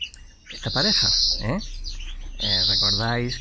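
A goldfinch in a home aviary, paired for breeding hybrids, gives bright, high twittering chirps in quick bursts close by, heard under someone speaking Spanish.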